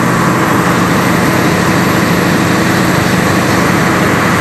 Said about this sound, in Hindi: ये एक है इंजन है जो बिजली पैदा करता है।